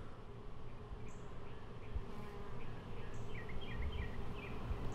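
Steady, dense buzzing of many honeybees close by, a continuous droning hum with occasional higher whines from individual bees passing near.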